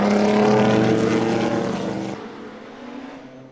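A 1947 ERA Grand Prix racing car, white, roars loudly at Monaco's historic Grand Prix with a steady high-pitched engine drone, then its pitch drops and it fades as the car pulls away.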